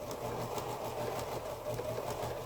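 A sewing machine runs steadily while stitching quilt pieces, giving a continuous close mechanical hum with a faint rhythmic pulse and no talking.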